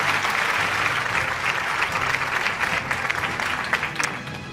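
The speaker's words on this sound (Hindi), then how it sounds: "भरपूर तालियां होनी चाहिए मुकर्रम के लिए" Sustained applause from an award show audience honoring a recipient, a thick wash of many clapping hands filling the hall, holding steady before easing slightly toward the end, with faint voices underneath.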